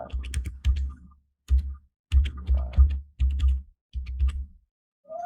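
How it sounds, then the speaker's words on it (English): Bursts of rapid keyboard typing, close and clear, in several short runs separated by brief pauses. "I'm typing my one."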